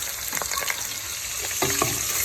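Prawns frying in a pan for a Bengali mixed winter vegetable curry, giving a steady close sizzle with a few stirring scrapes and soft pops, no voices heard.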